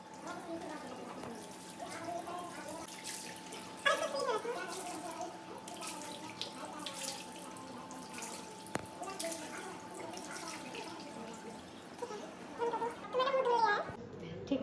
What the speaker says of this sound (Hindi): मैं फेस वॉश करके आती हूँ